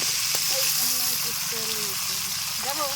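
Fish frying in a pan during outdoor garden cooking, a steady close sizzle running throughout with a voice talking over it.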